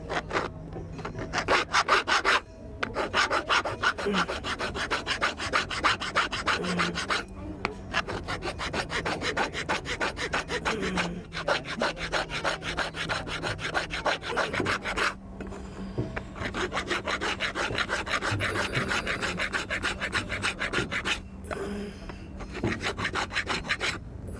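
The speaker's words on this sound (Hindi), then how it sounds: "अब तारकशी किए हुए काम को रेती के जरिए इकसार कर लेते हैं इस तरह से" A hand file rasps across a wood carving inlaid with wire, smoothing the surface flat. Steady, close, rhythmic strokes repeat without a break, with short pauses as the file is lifted and no speech.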